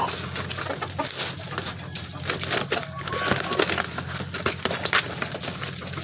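A chicken clucks and rustles while being stuffed into a woven bayong bag, with busy scraping and handling noise throughout.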